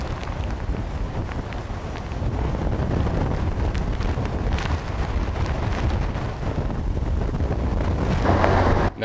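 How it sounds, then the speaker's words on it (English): Strong hurricane wind from Hurricane Charley in Punta Gorda, Florida, in 2004, a steady, loud rushing roar buffeting the microphone throughout, with gusts building toward the end. "Now, with the wind starting to pick up rapidly"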